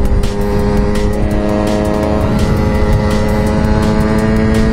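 Honda MT 125cc motorcycle engine pulling hard on an open road, a loud steady drone with rising harmonic tones as revs climb through the powerband, close and continuous without pauses.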